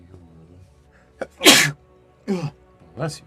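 A single loud, sharp human sneeze bursts out at a tabletop Dungeons & Dragons session, followed by a brief spoken reply and a short vocal sound afterward.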